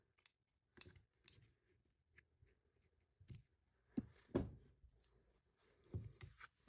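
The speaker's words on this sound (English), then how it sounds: "And then I'll kind of trim up these edges." Scissors trimming the edges of a handmade Christmas and birthday card stock, giving a handful of quiet, separate snips and paper rustles at close range in an otherwise silent room.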